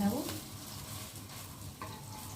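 Lentil fritters (dal bora) sizzle steadily in hot oil as they are stirred and lifted out. The frying is continuous and close, with a brief scraping clink at the start.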